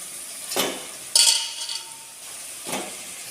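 A fish head dropped into a pot of fish curry, with a few short clinks of a utensil on the pot and a brief sizzling splash, then quiet.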